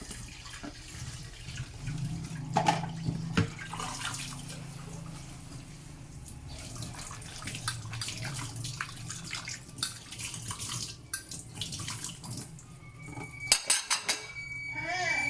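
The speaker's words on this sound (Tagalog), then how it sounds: "Maghugas tayo sa kinakainan." Tap water running in a sink while dishes are washed after a meal at home, a steady trickle with soft clinks of plates and cutlery, fairly quiet with some background noise.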